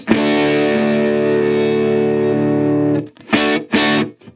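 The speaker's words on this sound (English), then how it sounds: "what happens when you turn the delay off is that the sound will just cut off immediately." A sustained distorted guitar chord through a Line 6 POD Go with delay turned off rings out, then stops dead, followed by two short choppy chord stabs that end abruptly without any trailing echo.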